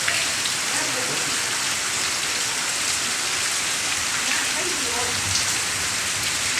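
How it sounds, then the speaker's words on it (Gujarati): Steady rain pours over farm fields in a village during the monsoon, a dense, continuous hiss of drops on the ground at even loudness throughout, with no pauses or talk. "વરસાદ ચાલુ થયો"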